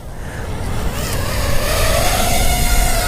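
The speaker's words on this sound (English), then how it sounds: "I'm gonna take off in angle mode first, because I want to do just a big throttle up." A Furibee X140 3-inch mini FPV racing drone lifts off in angle mode on a big throttle-up, its motors giving a loud, rising buzzing whine that builds steadily and stays close throughout.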